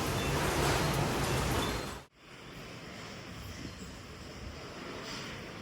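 Sea waves and blowing spray make a broad, steady roar of surf and wind noise that drops out abruptly for a moment, then continues at a lower, even level.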